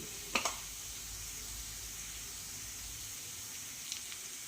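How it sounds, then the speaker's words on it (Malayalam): Onions frying in a pan for a Kerala-style kadala curry, with pepper and turmeric powder added, give off a faint, steady sizzle and hiss with a couple of brief louder crackles near the start and end. "നമ്മൾ സവാള മൂത്തുന്നുണ്ട്"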